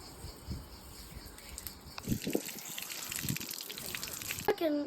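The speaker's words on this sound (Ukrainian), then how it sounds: "Ось таким чином я наповнив цю кульку водою." Water gushing from a garden hose fitted with a filling nozzle into a water balloon, a close, steady rushing and trickling that starts softly and swells partway through, with a voice talking.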